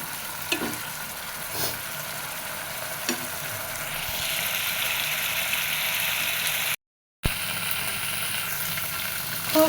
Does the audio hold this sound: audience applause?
no